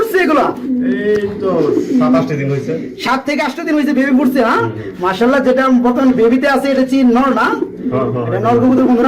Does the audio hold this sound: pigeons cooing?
yes